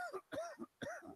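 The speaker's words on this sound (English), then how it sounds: "I'm going to cough here real quick." Three short, soft coughs or throat-clearing bursts from a man, evenly spaced over about a second and heard close and alone.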